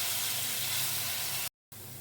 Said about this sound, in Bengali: এর মধ্যে সামান্য একটু জল দিয়ে সমস্ত মশলা কয়েক সেকেন্ডের জন্য ভালো করে কষিয়ে নেব